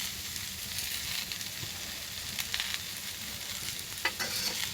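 Onion and green chili fry in a pan with salt, producing a continuous close sizzle with scraping stirring strokes and occasional sharper crackles.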